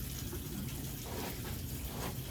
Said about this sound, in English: Turn that so you can see the water running.